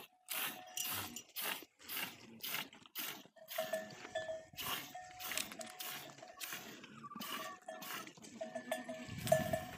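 Goats bleat and shuffle as a shepherd handles them at a milking site, with a bell clanking repeatedly and brief scuffles throughout, the animals close and busy in a steady, continuous stream of noise.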